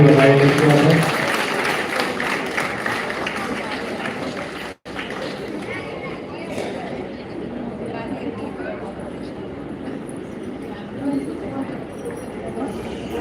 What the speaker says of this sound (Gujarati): તાળીઓથી વધાવી દઈશું આપણે.